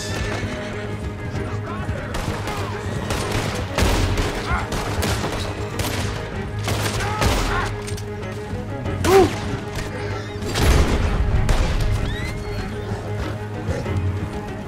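Gunfire crackles in bursts while riding a horse in the video game Red Dead Redemption 2, with hoofbeats, scattered shots and sharp cracks layered over a steady game soundtrack and mixed action noise.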